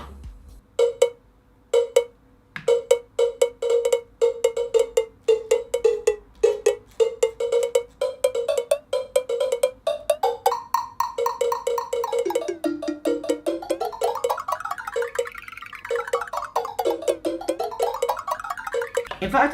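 A DJM-900NX2 mixer's delay effect with pitch shifting applied to a percussive cowbell-like loop, repeating hits that smear into echoing tones sweeping up and down in pitch, loud and continuous.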